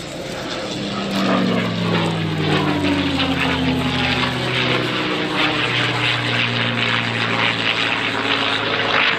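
A North American P-51D Mustang with its 12-cylinder Merlin engine makes a low, loud pass at an airshow. The propeller roar swells quickly and then holds strong, and the engine pitch slides downward as the plane passes and moves away.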